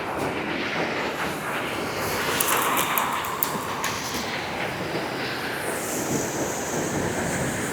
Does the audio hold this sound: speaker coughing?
no